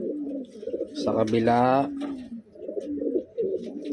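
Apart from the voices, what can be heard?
pigeon cooing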